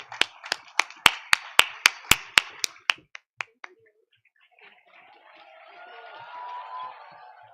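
Audience at a literature festival in Jaipur clapping in welcome: a run of sharp, loud, evenly spaced claps for about three seconds, then a pause and a low murmur of crowd noise.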